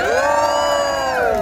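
An audience cheers loudly in one sustained whooping roar that holds steady for about a second and a half without a break.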